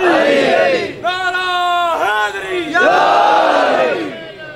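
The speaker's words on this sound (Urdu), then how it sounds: "ان کو صحت و سلامتی ملے، پریشانی دور ہو، اس نعرے کے ساتھ عابدین کا بابا،" A crowd at a religious gathering chants a slogan in loud, sustained unison, with several rising and falling cries that swell and fade across the whole stretch.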